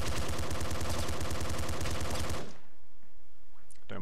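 Rapid automatic gunfire from the Nuclear Throne video game, a dense continuous burst of shots for about two and a half seconds that then cuts off, leaving quieter game sounds.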